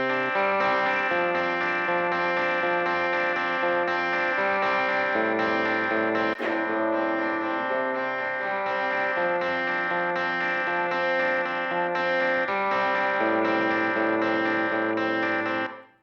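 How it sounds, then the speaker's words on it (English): Electric guitar plays sustained, ringing chords through a small room reverb preset, the notes blooming with a short ambient tail and holding steadily loud for the whole passage before a brief fade at the end. "Let's try it out now on electric guitar with some of those same guitar presets."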